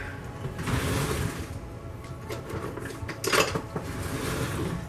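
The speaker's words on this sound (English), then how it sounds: "we're just going to scrape it into the mason jar right on top of the chocolate milk" A rubber scraper scrapes whipped coffee from a bowl into a mason jar, landing on top of chocolate milk, with steady close clatter and scraping of utensil against dishware, a louder scrape burst near the end.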